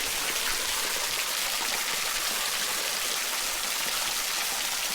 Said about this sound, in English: with all of this fresh water coming in, filtering itself on the rocks